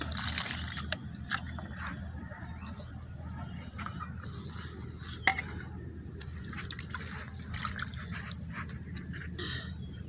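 Roasted, charred potatoes are rinsed with water, heard as quiet, close trickling and dripping with a few soft knocks and splashes.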